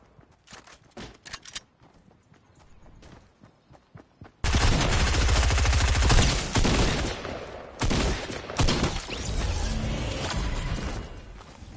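Shotgun fire in a video game, scattered sharp shots at first, then a dense, loud, continuous barrage of blasts and impacts lasting several seconds with brief dips.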